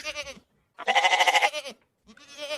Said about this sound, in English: Hey, let the goat talk.